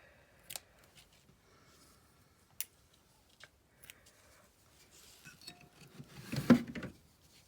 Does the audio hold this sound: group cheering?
no